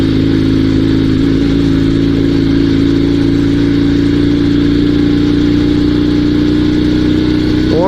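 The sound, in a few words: Dnepr sidecar motorcycle engine running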